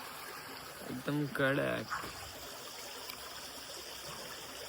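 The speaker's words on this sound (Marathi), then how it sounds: "कसलं मस्त पाण्याचा आवाज येतोय" A stream of water in the Konkan countryside flows with a steady, soft rushing wash throughout, while a person briefly speaks over it.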